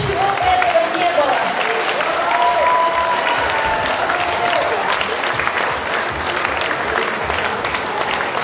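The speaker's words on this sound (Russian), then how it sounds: "давайте мы подарим отдельные аплодисменты нашим прекрасным педагогам" A concert audience at a performance by the Loktev Ensemble groups applauds its teachers, giving dense, sustained clapping that fills the hall at a steady loud level throughout, with a faint voice briefly audible early on.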